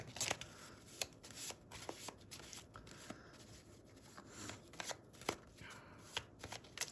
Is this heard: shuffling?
yes